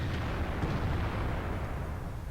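Tank cannon fire in the World of Tanks game, heard as a dense, continuous low rumble of booming blasts with no clear separate shots, steady and loud throughout.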